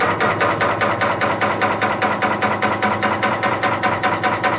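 Cummins PT injector test bench motor starting up and running, a steady loud mechanical drone with a regular pulsing rhythm close by, no voices.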